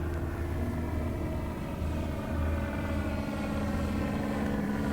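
A Hobby King fixed-wing aircraft sound module plays through the speaker of an RC Cessna 182, giving a steady, droning propeller-engine hum heard from some distance, fairly faint and unbroken.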